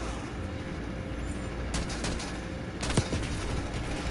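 Gunfire in Call of Duty Black Ops 6 crackles over a steady background din, with a couple of sharp, distinct shots standing out near the end of the stretch.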